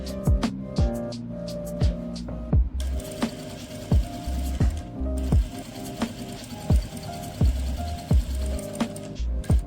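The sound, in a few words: sewing machine stitching an Afghani salwar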